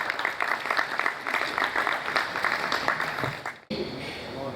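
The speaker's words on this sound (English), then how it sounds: "Please clap for him." Audience at a business roundtable event applauds steadily for several seconds, a sustained wash of many hands clapping that cuts off abruptly near the end.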